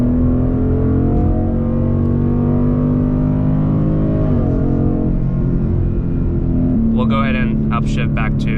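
A Ford Mustang engine hums steadily and loudly from inside the car, then its pitch jumps higher as a paddle-shifter downshift pushes the revs from about 4,000 toward 5,000 RPM, with a second shift change near the end.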